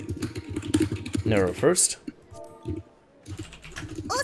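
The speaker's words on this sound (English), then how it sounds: "Keyboard is super loud, holy goodness" A very loud computer keyboard clatters in quick, dense bursts of keystrokes during a Final Fantasy XIV livestream, with a person talking over parts of it and a brief pause midway.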